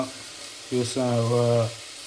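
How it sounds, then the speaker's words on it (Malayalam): Chicken is added to roasted masala in a hot pan and stirred, a burst of frying noise followed by a longer steady sizzle, close and fairly loud. "ചിക്കൻ നമ്മൾ ഇനി അതിലേക്ക് ആഡ് ചെയ്യാം, മിക്സ് ചെയ്യാം."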